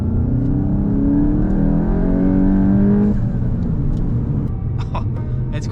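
A turbocharged 350hp VW Mk8 GTI pulls hard under boost, its engine note climbing steadily and loudly before a gear change cuts it, then flutters and whooshes from the turbo follow.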